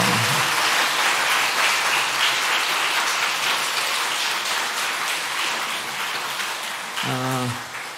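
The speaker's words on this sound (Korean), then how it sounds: "박수" A church congregation applauds during a Sunday afternoon service, a dense, steady wash of clapping that fills the whole stretch, with a brief voice breaking in near the end.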